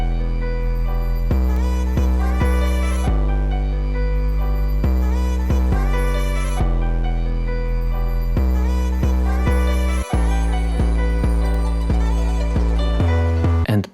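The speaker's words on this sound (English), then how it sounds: "it's just the notes of our bass with the rhythm of our kick" An 808 bass pattern following a kick rhythm, layered over a sampled beat with sustained chords, loud and dense, pulsing steadily with the bass notes hitting in syncopated bursts throughout.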